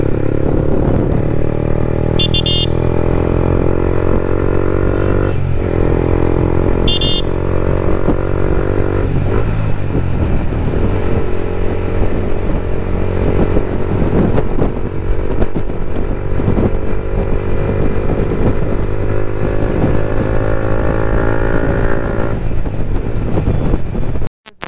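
Yamaha MT15 V2 motorcycle fitted with a loud aftermarket exhaust, riding on a road with a steady droning engine note under heavy wind buffeting, the pitch rising and holding through sustained cruising for the whole stretch.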